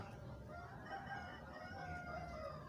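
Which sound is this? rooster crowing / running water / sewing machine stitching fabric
rooster crowing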